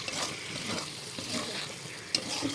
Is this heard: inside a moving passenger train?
no